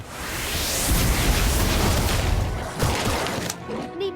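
Confringo blasting spell in Harry Potter: Magic Awakened, a loud sustained explosive rumble with crackling debris that swells, holds for several seconds, then fades out.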